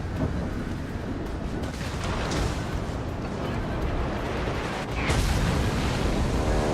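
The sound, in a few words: AP bomb explosions in video game World of Warships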